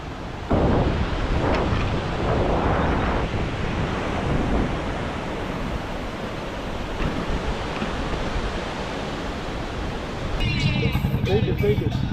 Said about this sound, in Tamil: எவ்வளோ தண்ணி ஓடுது? இந்த பக்கமும் ஓடுது அந்த பக்கமும் ஓடுது.